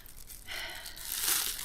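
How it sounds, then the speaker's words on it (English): A plastic bag crinkles and rustles as it is handled outdoors in the woods, a quiet rub swelling into a louder, sustained crackle over a second or so. "most of the times I just have a plastic bag like this, because I can just put it in my pocket"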